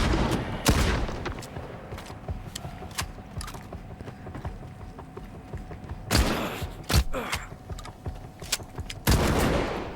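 Shotgun gunfire in the STALKER 2 video game: loud, sharp blasts spaced irregularly, with clicks and mechanical clatter between them and a couple of heavier bursts near the end, no speech.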